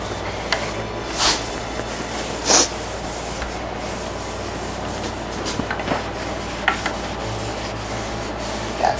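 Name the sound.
sanding off varnish shine on wooden piece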